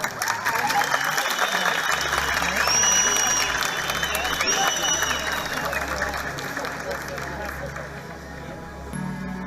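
Audience clapping for the winner of a teachers' singing contest final, a broad wash of applause with crowd murmur and some cheering, swelling early and then slowly tapering off.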